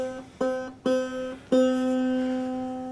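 A homemade single-string diddley bow plucked three times in a row, each note ringing out clear and close, with the last note sustaining and slowly fading.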